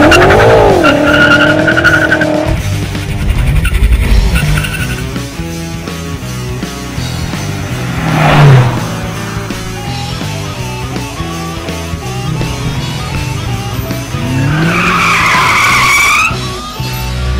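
A new 560 hp BMW M5 is driven hard, tires squealing in long wavering howls over the engine's roar, with revving swells and repeated skids from close by.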